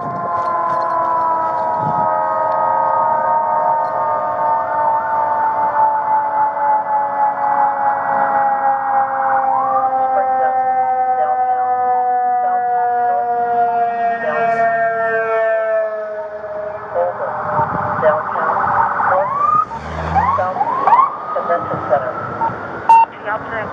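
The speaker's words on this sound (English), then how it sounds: "More ambulance coming." A wailing siren sweeps steadily for most of the clip, loud and continuous, with rumbling traffic and brief voices rising near the end.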